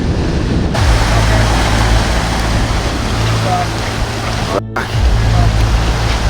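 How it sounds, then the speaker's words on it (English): Loud, continuous roar of ocean waves surging onto a rocky shore on Vancouver Island, a broad steady wash of surf filling the whole stretch with a brief dropout near the end. "the waves like kind of chill out, but that's like right in the heat of it"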